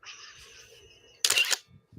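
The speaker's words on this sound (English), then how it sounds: "That's like the old school camera right there." Old school camera shutter sound effect, one sharp mechanical click-whir burst following a fading whine, near and fairly loud, with faint murmuring around it.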